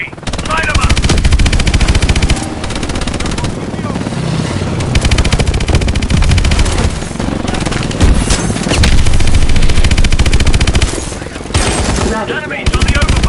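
Dense automatic and single-shot gunfire from a Call of Duty: Advanced Warfare firefight rattles loudly and nearly nonstop, with bursts layered over booming effects and occasional radio-style voices under the shooting.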